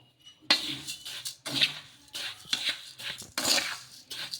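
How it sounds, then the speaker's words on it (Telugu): Semolina and vermicelli being stirred together in a bowl with a utensil, giving four distinct bursts of scraping and light clinking, close and moderately loud, with no talk. "ఇలా ఇవి రెండు వేసుకొని ఒకసారి బాగా కలిపేసుకుందాము"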